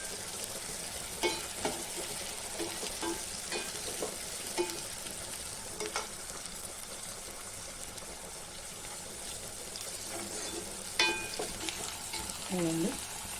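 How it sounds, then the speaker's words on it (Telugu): Sliced onions and green chillies fry in a pan with a continuous sizzle, broken by scraping stirs and a few sharper clinks, close and clear with no talking. "ఉల్లిపాయ వేగిపోయింది, పచ్చిమిర్చి ఉల్లిపాయ."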